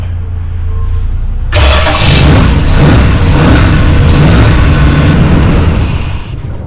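A 1985 Dodge D-150 truck engine fitted with a swapped 4-barrel carburetor starts and then runs loudly and close, keeping up a steady, rough rumble for several seconds.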